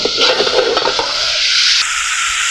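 Snake gourd frying in a pan gives a loud, bright sizzle, with a few close clinks and scrapes of the lid and utensil at first, settling into an even hiss.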